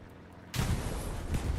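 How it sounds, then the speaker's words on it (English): A Sherman tank fires a shell during a tank fight in Hell Let Loose, a sudden loud blast after a quiet start, followed by a dense roaring rumble and a second thump. "Looks like the Sherman's going to get the first shell in."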